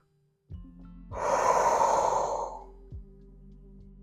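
A long, breathy exhale during a slow bedtime stretching workout, rising to a steady rush of air that holds for about a second and a half and then fades, with soft background tones and no talking.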